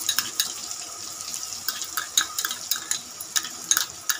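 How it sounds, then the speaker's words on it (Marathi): Ginger garlic paste being stirred and fried with onion and tomato for a spicy goat mutton curry, with spoon scrapes and sizzling in irregular bursts, close and clear, no voices. "अद्रक लसूण पेस्ट मिक्स करून घ्या, फ्राय करा।"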